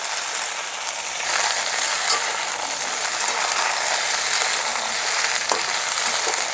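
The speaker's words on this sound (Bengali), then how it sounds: "আমি ঢাকা দিয়ে সবজিগুলো ভেজে নিচ্ছি" Capsicum, pointed gourd and yardlong beans fry under a lid in a pan over a low flame for shukto, giving a steady, close hiss of sizzling with a few faint clicks and no voices.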